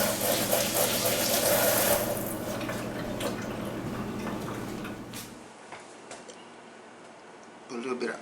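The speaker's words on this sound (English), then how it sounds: "Let me wash my hands up first." Tap water runs steadily while hands are washed in a kitchen, loud at first, then fading to drips and handling noises; a voice is heard over it.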